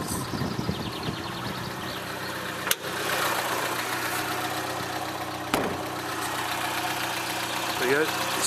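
Suzuki SJ410 four-wheel drive engine idling in the open, a steady mid-pitched rumble with a faint rhythmic knock, running continuously for several seconds and broken by two sharp handling thumps.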